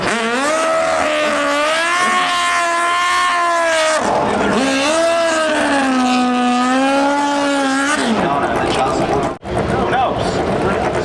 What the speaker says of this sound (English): And Matt Smith rides by.